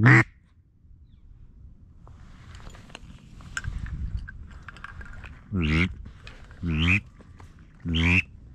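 Several loud wild duck quacks during an Ohio duck hunt, one at the very start and three more spaced out near the end, with a low rustling field background in between.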